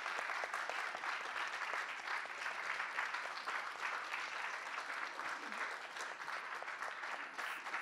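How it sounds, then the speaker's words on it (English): An audience claps together in steady applause that holds at an even level for several seconds, dense and moderately distant, with no voice breaking through. "I'd like the audience to give you a round of applause"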